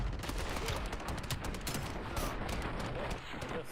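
Dense video game gunfire, a continuous rattle of overlapping rapid shots like a firefight, loud and unbroken for the whole few seconds, with no clear talking.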